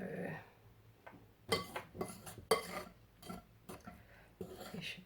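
Chocolate muffin batter being mixed in a bowl, with a utensil clinking and scraping against the sides in irregular bursts and short pauses, close and moderately quiet.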